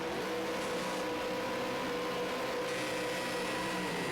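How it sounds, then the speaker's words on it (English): V8 Supercar engines rev together on the starting grid at Donington Park National in a racing video game, a steady, dense mechanical drone with a sustained tone that rises slightly as the revs build. "Revs are building."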